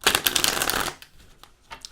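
Tarot cards are riffled and shuffled briskly for about a second, a dense papery flutter, followed by a few quieter taps and soft handling sounds close by.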